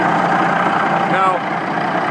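A Western Star truck's Caterpillar reman diesel engine idles in a steady, close mid-range rumble that stays constant throughout, with someone speaking briefly over it.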